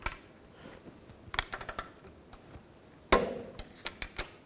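Torque wrench clicking while tightening caliper bolts to 120 foot-pounds on a 2000-08 GMC Yukon rear axle: sharp metallic ticks and clicks in short scattered bursts, fairly close, one louder snap near the end, no talk.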